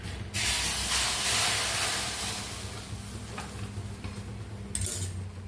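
Mustard seeds crackle and sizzle in hot oil while jackfruit puzzhukku is cooked, a dense steady hiss that eases a little midway and flares again near the end, with faint kitchen clatter.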